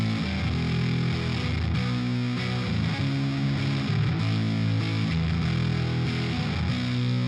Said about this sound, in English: let's hear just the guitar. It's a pretty heavily distorted, but kind of dry, no reverb.